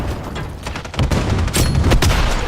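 Grenade blasts and dense gunfire in a Call of Duty-style shooter game, a sustained loud clatter of booms and shots with no voice over it.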